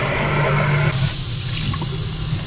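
Water from a paint-brush rinse bucket poured out into a sink, a close splashing gush that tapers into trickling and a few drips at the end.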